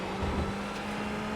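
Ferrari GT3 race car engine pulling steadily on throttle at Laguna Seca, a continuous droning roar with a strong steady tone, close and loud, with no voices.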